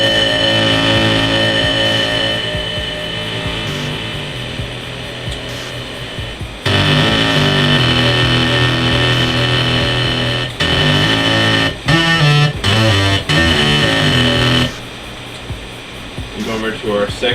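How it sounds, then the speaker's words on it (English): A flanger effect using the In the Box preset sweeps over a sustained, buzzing synth tone, giving a whooshing jet-like swirl. Several abrupt cuts and stuttering breaks occur, and the effected sound plays loud with no voice over it. "What I put on it was a flanger, and the preset is called In the Box."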